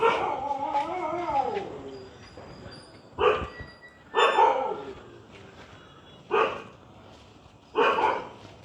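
A puppy yelps and whines in a rising, wavering cry, then gives four sharp separate barks spaced a second or two apart, fairly close and loud.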